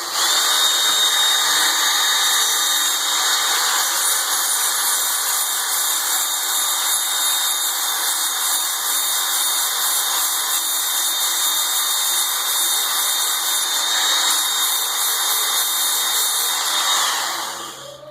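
A Work Sharp Ken Onion belt sharpener runs on its highest setting, giving a loud, steady high-pitched motor whine and grinding hiss that holds unbroken for the whole stretch before spinning down at the end.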